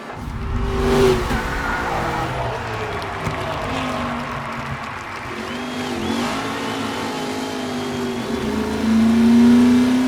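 A race car engine in the video game Mafia Definitive Edition revs and drones steadily through a race, with rising pitch sweeps and a louder surge near the end.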